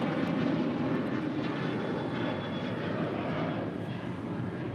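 Alaska Airlines Boeing 737-900ER jet departing LAX for Boise, a continuous broad engine roar at moderate distance, fairly even with a slight fade toward the end.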